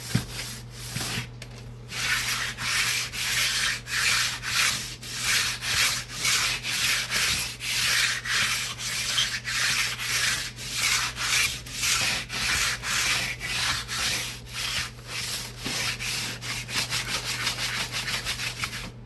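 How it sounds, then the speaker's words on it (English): Rhythmic back-and-forth strokes of sandpaper rasp against a wooden model aircraft fuselage, close and continuous, with a low steady hum underneath throughout. "got some small lips here that I'm sanding out."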